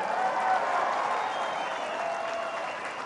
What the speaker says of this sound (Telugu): ఆకాశం బద్దలైతే చప్పట్లు కొట్టండి దయచేసి.